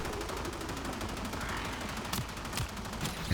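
Enemy gunfire in the Warframe video game, a steady dense stream of rapid automatic shots with a few sharper bursts near the end, continuous and fairly loud throughout.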